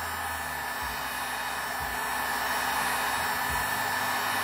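A heat gun blows steadily on a scorch marker signature, a continuous close airy roar with no pauses and no voices.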